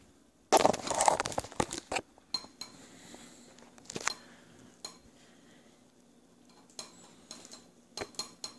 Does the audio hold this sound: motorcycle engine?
no